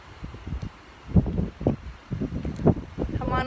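Gusty wind blows outdoors beside a backyard bird feeder, buffeting the microphone in uneven bursts with rustling throughout.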